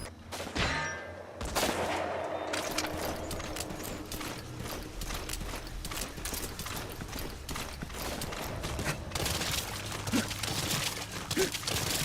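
Gunfire in Metal Gear Solid 5: The Phantom Pain, rapid dense bursts of shots crackling in quick succession, loud and fairly close, with mechanical clatter mixed in.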